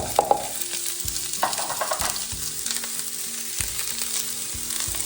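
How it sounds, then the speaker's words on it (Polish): Chopped onion sizzles in hot olive oil while being stirred, a close, steady frying hiss broken by scraping stirs. "oliwa z oliwek już jest rozgrzana, a więc wrzucamy cebulę"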